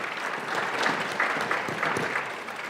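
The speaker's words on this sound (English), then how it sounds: "So a big round of applause for them, too, for their work from the campus standpoint." Audience applause at a high school junior class academic awards ceremony fills the room, a dense, steady clapping from many hands that holds evenly throughout and eases slightly at the end.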